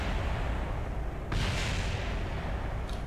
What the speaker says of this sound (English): Despite the many explosions.